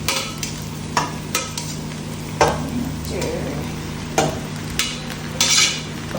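Pasta stirred into a frying chicken pasta sauce enriched with fresh cream, giving a steady low sizzle broken by sharp spoon scrapes and clinks against the pan at irregular intervals.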